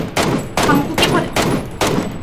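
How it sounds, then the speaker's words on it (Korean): Repeated close gunshots in an online shooting game, five heavy broadband bursts in steady rhythm roughly every half second, loud and continuous without pauses. "총소리 이렇게 많이 내는데."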